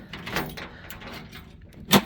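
Key turning the door lock mechanism of a Jeep J10, greased with graphite and lithium, giving soft mechanical rattles and then one sharp metallic click near the end, close up with no talk.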